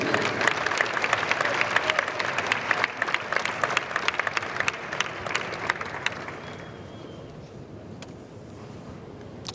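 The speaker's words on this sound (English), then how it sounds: "How about a nice round of applause for Gianna Brandolino and Connor Fleming" A crowd at a women's amateur bowling stepladder final applauds two bowlers, loud continuous clapping that thins out and fades after about six seconds, leaving a quiet room with faint sounds.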